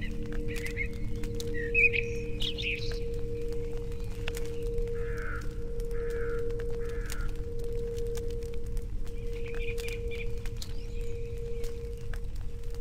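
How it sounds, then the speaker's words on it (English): Crows in a churchyard in The Lost Crown game cawing in scattered calls over a steady low ambient hum, moderately distant and fairly faint. "Why are there so many crows in the churchyard?"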